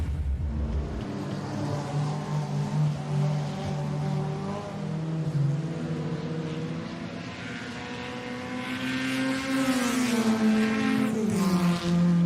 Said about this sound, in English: that's the Faenza going around the Alpha GTV